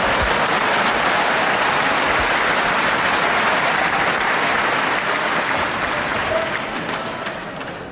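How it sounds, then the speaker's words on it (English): A packed crowd at De Montfort Hall in Leicester applauds a neat wrestling move, dense steady clapping filling the hall at high volume before gradually tapering off toward the end. "any neat move like that, applauded by the packed to capacity crowd here at this wonderful De Montfort Hall in Leicester"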